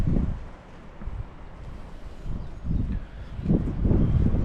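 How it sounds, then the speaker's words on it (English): Gusty wind buffets a microphone in a palm garden in Ålesund, Norway, with low rumbling surges that swell and fade, growing stronger toward the end, and no talking. "Quite windy today."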